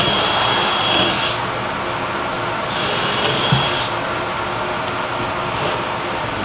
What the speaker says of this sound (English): So we are pre-drilling the holes for the casters.